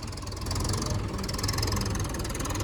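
A Mahindra tractor engine that won't shut off runs steadily at high revs, a continuous loud mechanical drone with rapid knocking pulses, close by and with no voices over it.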